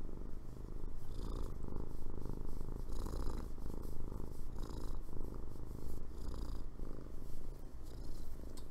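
Loud, continuous rumbling purr of a contented cat being scratched under the chin, rhythmic and close, with no talk over it.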